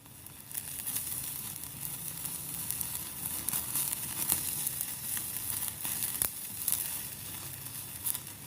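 Korean barbecue meat sizzles over a charcoal grill at a minivan camp, a steady, close crackling hiss running throughout with scattered sharper pops.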